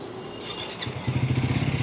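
A Triumph Speed 400 motorcycle engine on a test ride, a low throbbing idle that rises into a steady pulsing rev in the second half, close and moderately loud with some clatter.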